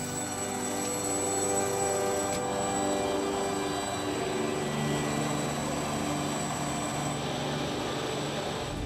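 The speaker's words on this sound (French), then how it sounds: "L'hélicoptère va chercher le médecin sur le toit de l'hôpital." A mountain rescue helicopter flies with a continuous droning rotor and engine roar, steady and loud throughout with no speech.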